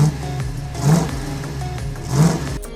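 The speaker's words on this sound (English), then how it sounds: "The Boss 351 was powered by the 351 Cleveland V8 engine, a high-revving unit" A Ford Boss 351 with its high-revving 351 Cleveland V8, solid lifter cam and high compression, from a 1971 muscle car, revs in two loud surging pulses over a steady engine rumble, close by with no talk.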